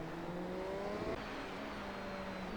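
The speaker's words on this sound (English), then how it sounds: "Clearly downshifting." Race car engine at a sports car race, its drone stepping down in pitch as it downshifts under braking, a steady mechanical whine with a brief shift blip partway through, heard from trackside.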